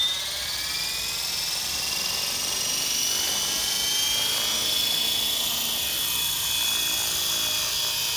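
An Align 450L RC helicopter lifting off and hovering, with a loud, steady high-pitched rotor and motor whine that shifts slightly in pitch as it flies, close by and with no voices.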